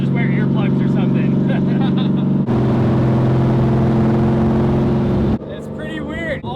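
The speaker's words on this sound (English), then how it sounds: "All the exhaust noise is on one of my ears and not on this side." A 1968 drift Camaro with straight pipe exhaust drones loudly up close, shifting pitch midway and then dropping off abruptly, with someone talking over it at the start and end.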